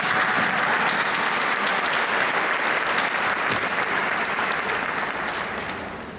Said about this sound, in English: give this lad a big round of applause for all his hard work and dedication